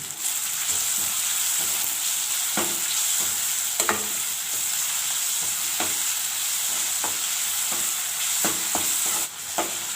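Squid gravy base sautéing in a pan with curry leaves and salt crackles in a steady sizzle, with sharp ladle scrapes and stirring clatter coming every second or so, close and alone without any talk.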